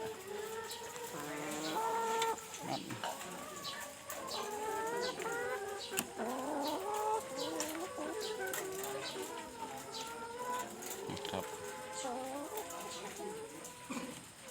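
Chickens cluck and chatter continuously on a school egg farm, many birds near and far layered into a busy, moderately quiet flock sound with a few sharp knocks.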